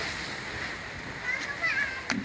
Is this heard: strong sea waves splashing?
yes